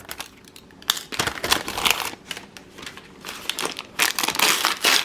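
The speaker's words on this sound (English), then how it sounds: "It's wrapped in this fragile paper." Fragile packing paper crinkles and crumples as plastic shelves and case parts for a miniature bakery display are unwrapped, a close, busy run of irregular rustling bursts with no talk.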